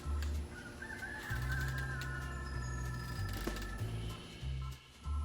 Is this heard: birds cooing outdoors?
yes